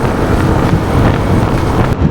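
Strong, cool wind buffets the microphone on a road trip in Infanta, Quezon, in a constant loud roar, gusting slightly but never letting up over the short stretch.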